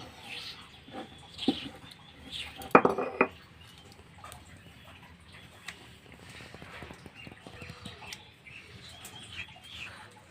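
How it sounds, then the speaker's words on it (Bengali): Ground mustard leaf paste is scooped out and moved into a container. Soft scraping is punctuated by a few sharp utensil clinks and a brief louder clatter near the middle, close by and without speech. "পাতাটা আমার বাটা হয়ে গেছে এবার আমি এটাকে একটা জায়গায় তুলে নেব"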